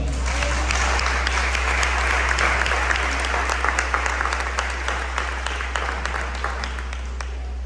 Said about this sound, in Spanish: Podemos dar un fuerte aplauso a Dios.